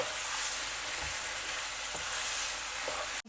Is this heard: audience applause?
no